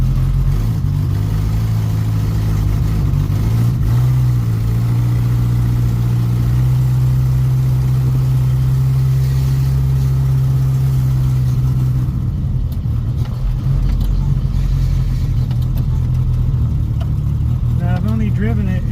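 A Toyota Hilux truck engine runs steadily on pavement with a loud, low, continuous drone, shifting in pitch as it moves along the road.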